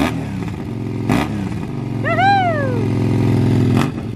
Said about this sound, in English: just checking the actual bike starts